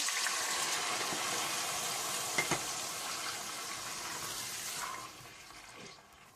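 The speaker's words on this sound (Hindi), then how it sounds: "साथ ही आप इसमें आधा कप पानी डाल दें।" Half a cup of water goes into a cooking pan of frying tomatoes, ginger and garlic for chicken jalfrezi, making a hissing, bubbling sizzle with a couple of small clinks that fades toward the end, with no talking.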